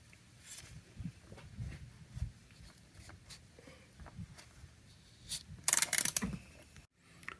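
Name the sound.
3/8 ratchet loosening Subaru Forester oil filter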